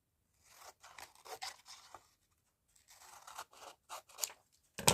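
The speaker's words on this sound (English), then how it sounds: "So I just want to trim around it slightly." Scissors snip and scrape in short, uneven bursts while trimming around a cut piece for a craft project, close and fairly quiet, with a sharp click at the end.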